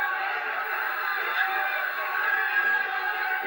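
A crowd packs a pub in the early hours to cheer on an athlete, raising a steady, dense roar of cheering and chatter with a voice speaking over it.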